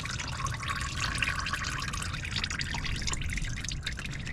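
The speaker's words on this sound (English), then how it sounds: "You'll start seeing it dripping, and then you can leave it just like that so you don't make a mess." Old engine oil drips steadily from the drain plug of a 2000 Lincoln Town Car with a 4.6 engine, a continuous close trickle and patter into a pan with no talking.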